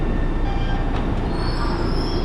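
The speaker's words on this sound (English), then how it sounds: "The train just arrived." A subway train arrives at a station in Downtown Crossing, Boston, rumbling steadily nearby with a loud, constant low roar and faint metallic squeals overhead, no voices.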